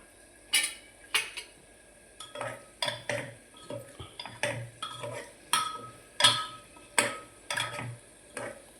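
A spoon stirs a potato curry made with the potato peels left on, clinking and scraping against the pan in a steady rhythm of about a dozen close, sharp strokes, with no talking.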